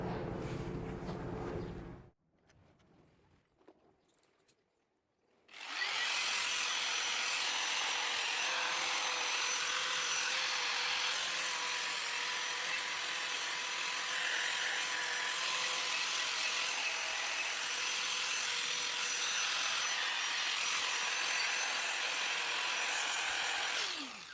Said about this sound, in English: I'm cleaning up the rest of the red off the frame using a wire wheel on an angle grinder